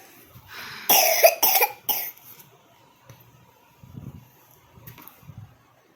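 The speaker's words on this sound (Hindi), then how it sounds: "इसको बहुत ज़्यादा खांसी हो रही है, इसको कोल्ड हो रहा है।" A young girl with a cold coughs in a quick cluster of three harsh, close coughs, followed by quieter throat noises and faint rustling.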